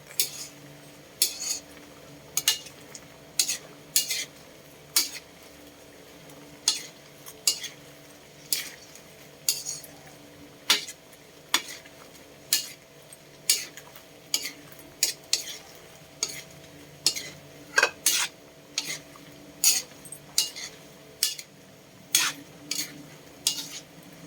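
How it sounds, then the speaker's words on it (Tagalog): Utensil stirring ulam in a pot, a steady series of sharp scraping clinks against the metal repeating roughly once a second, near and clear over a faint background hum. "Mix it, mix it."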